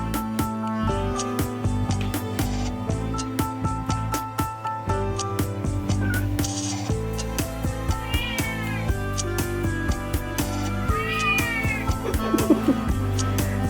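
Several house cats meow repeatedly for food, their cries rising over a loud, dense background of continuous music that runs throughout.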